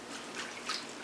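A tied bunch of fresh oregano washed in water, a soft continuous splashing and dripping, close and fairly quiet.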